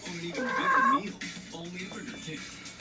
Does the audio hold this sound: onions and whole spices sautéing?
no